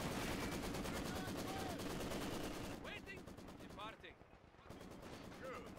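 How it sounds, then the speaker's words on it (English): Heavy machine gun fire in the World War II strategy game Company of Heroes 2, a dense, continuous rattle of rapid shots for the first few seconds, then thinning out under scattered battle noise and faint voices. "We got 50 cals that are shooting the wall!"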